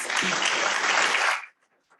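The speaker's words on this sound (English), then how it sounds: "If you can give them a round of applause, please." Audience applause following a call to celebrate, a dense steady wash of many hands clapping at fairly close range that stops abruptly after about a second and a half, leaving near silence.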